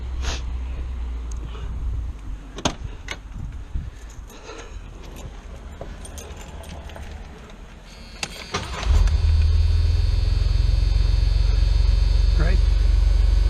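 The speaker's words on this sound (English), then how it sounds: "I'm going to restart the car and double check with the air filter on" A carbureted 1981–85 Ford Mustang engine cranks and catches about two-thirds of the way through, then settles into a loud, steady idle after a stretch of clicks and shop handling noises.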